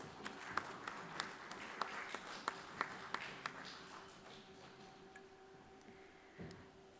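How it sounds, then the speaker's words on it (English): Scattered audience applause at a live awards ceremony as a memento is presented, a thin spread of distinct individual claps ringing out in a room, fading after a few seconds into quiet hum. "Round of applause please."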